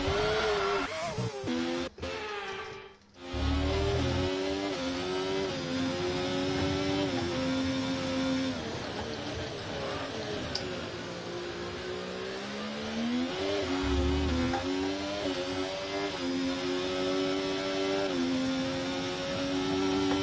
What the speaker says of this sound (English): I'm full throttle already at this point.